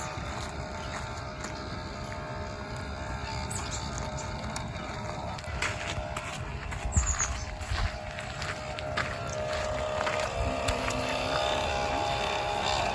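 A children's toy leaf blower motor runs continuously at close range, a steady buzzing whine with a faint high tone, holding level for thirteen seconds and rising slightly toward the end.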